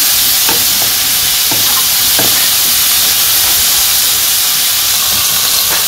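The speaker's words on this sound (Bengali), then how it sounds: "আমি বেগুন আর আলুগুলা হলুদ মরিচ লবণ দিয়ে ভালো করে কষিয়ে নেব।" Eggplant and potatoes fry hard with turmeric, chili and salt in a village kitchen, a loud, dense, continuous sizzle and hiss close by, with a few faint knocks of stirring scattered through it.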